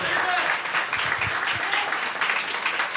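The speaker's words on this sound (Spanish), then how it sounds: "dale un aplauso fuerte a Dios" A church congregation applauds steadily during a sermon for about three seconds, a dense wash of clapping that stays even throughout, with some voices mixed in.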